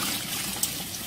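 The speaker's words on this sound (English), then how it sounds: "Take your clear water. Just pour it in there." Clear water poured into a TG23 portable washing machine, a steady soft trickle and splash filling the tub, close and fairly quiet, with a small bump partway through.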